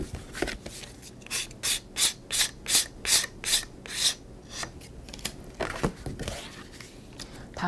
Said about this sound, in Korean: 한번 사포로 문질러 주도록 하겠습니다.